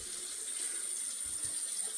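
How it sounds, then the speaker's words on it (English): Hot water runs from a tap for rinsing during a wet shave, a soft, steady splashing stream that carries on alone and unbroken. "We'll rinse hot water and we'll do our mustache area to finish up."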